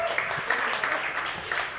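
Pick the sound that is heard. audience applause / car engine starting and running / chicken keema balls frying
audience applause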